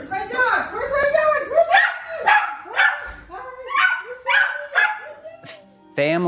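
Several dogs bark and yip in quick bursts, a lively chorus close by with a short whine between barks.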